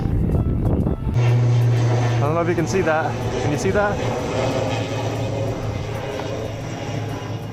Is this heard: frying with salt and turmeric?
no